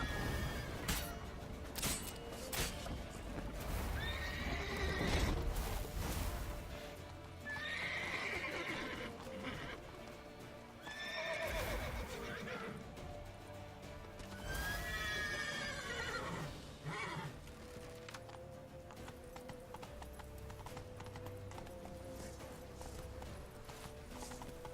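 Horses whinny repeatedly over the steady clatter of galloping hooves in The Witcher 3: Wild Hunt, with a dense, busy game sound mix running throughout.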